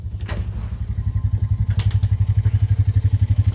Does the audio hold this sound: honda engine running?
yes